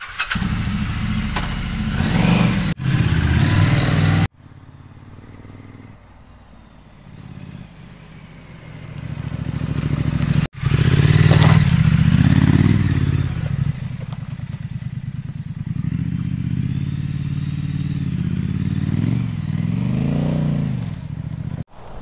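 A Triumph Street Scrambler motorcycle engine revs and roars at close range, rising and falling as it accelerates over rough ground, with rattling clatter between bursts.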